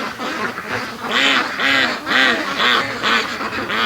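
Several ducks quack close by in loud, rapid bursts that repeat in an uneven rhythm, with no talking.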